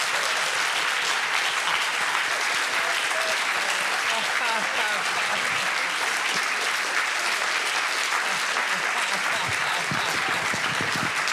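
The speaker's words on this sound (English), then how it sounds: "could we just applaud the two of you?" Audience applause after an art talk, a broad sustained wash of clapping filling the whole stretch at steady loudness, with no speech over it.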